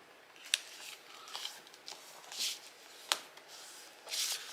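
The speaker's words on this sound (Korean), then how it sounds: "이제 옆으로 또 반 접어서 안쪽으로 접어주고요." Paper is creased and folded in half for an origami crane, giving soft rustles and several sharp crinkling snaps at close range, with no voices.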